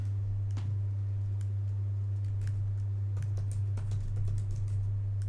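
Fingers type on a computer keyboard, a close, irregular patter of light key clicks over a steady low electrical hum.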